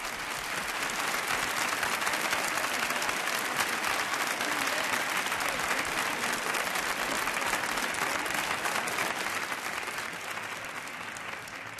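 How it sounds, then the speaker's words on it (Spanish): A 1980 Spanish TV game show studio audience gives sustained, loud, even applause, a thick continuous clatter of many hands clapping for over ten seconds before it eases slightly at the end. "Felicidades y nuestro aplauso."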